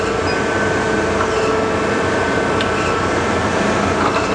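A 12" x 24" Chevalier precision surface grinder with programmable automatic increments grinds a workpiece, giving a continuous, even, hissing whir of the wheel against metal that stays at a constant level throughout.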